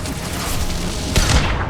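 A grenade blast in Mass Effect 2 lands as a single short, heavy boom partway through, standing out from a steady wash of game noise.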